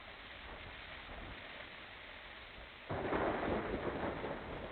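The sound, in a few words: recording of rain and thunder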